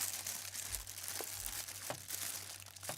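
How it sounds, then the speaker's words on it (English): A sealed plastic bag holding the power supply for a Seagate 4TB USB 3 desktop drive is torn open up close, giving steady crinkling and crumpling with a few sharper rips and no talking. "And we have a plastic bag with the power supply in."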